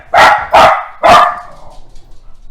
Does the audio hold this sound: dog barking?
yes